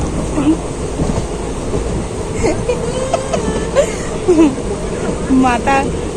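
A passing train rumbles steadily and loudly close by, with rolling low-frequency noise throughout and brief higher squeals and clanks, while people talk over it.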